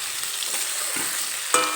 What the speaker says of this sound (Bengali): আলুগুলো পেঁয়াজ আর তেলের সঙ্গে খুব ভালোভাবে মিশিয়ে নেব।